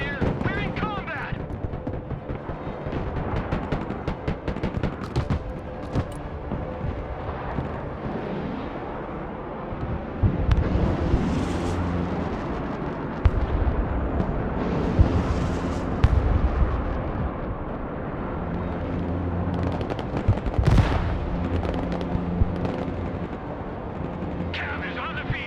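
Artillery fire and explosions from the video game Broken Arrow rumble on steadily, with gunfire crackle and heavier booming blasts swelling midway, mixed under intermittent radio-style voices.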